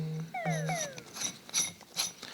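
A ratchet tightens a castle nut on the rebuilt steering box of a 1972 Dodge Challenger, giving quick clicking pawl ratchets in short bursts, close up and fairly clear, with no voices.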